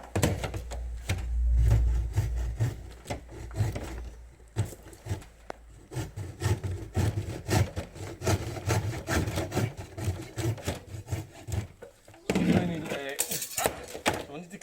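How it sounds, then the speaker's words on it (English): A hand hacksaw cuts non-ferrous scrap metal, with uneven rasping back-and-forth strokes and clanks, close by, mixed with intermittent talking. "I knew there was a hacksaw around here somewhere."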